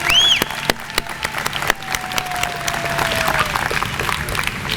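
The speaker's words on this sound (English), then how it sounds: "let's give them all a big round of applause" Applause from an orientation audience welcoming student volunteers and peer leaders, scattered claps throughout with a whistle-like tone sliding across, moderately loud and steady for a few seconds.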